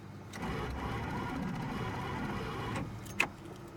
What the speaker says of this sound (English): I don't think I've ever heard a starter make that noise before.